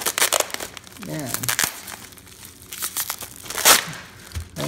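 A heavily taped package of vintage watches being pried open, with loud crinkling and tearing of tape and wrapping in quick bursts while someone talks over it.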